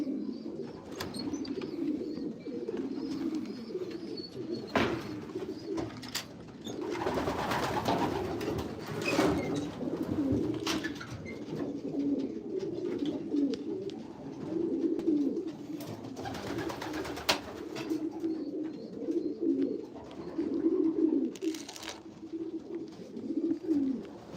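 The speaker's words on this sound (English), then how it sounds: "Yes, they are baby pigeons." Young pigeons coo softly and steadily inside a pigeon loft, a low murmuring chorus of several birds with occasional wing flutters and rustling throughout.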